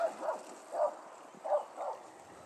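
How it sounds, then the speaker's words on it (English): A dog barks from behind a front-yard fence as a bicycle climbs a hill, four loud barks in an uneven rhythm at moderate distance over steady road and wind noise. "we're getting yelled at by that dog."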